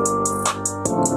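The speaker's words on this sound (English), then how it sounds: "you add on the piano, and it sounds like this" Short producer-made beat loop with sustained piano tones layered over a rhythmic drum pattern of evenly spaced hi-hat-like ticks and a low kick, playing continuously without any voice.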